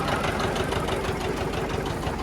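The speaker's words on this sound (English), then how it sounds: "This is the tractor running" A farm tractor used for plowing a field idles up close, its engine holding a steady, rough, knocking rumble throughout with no other sounds.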